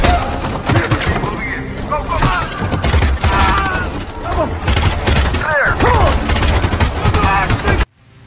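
Gunfire crackles through a loud action-film shootout, with bursts of shots, impacts and shattering layered over a dense soundtrack, and voices heard within the clamour before the clip cuts out abruptly.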